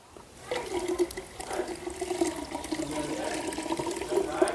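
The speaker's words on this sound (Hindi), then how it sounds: "और फिर इसमें थोड़ा सा पानी डाल देते हैं।" Water is poured into milk in a pot, a steady splashing, gurgling pour that runs close and continuous for several seconds with no talking.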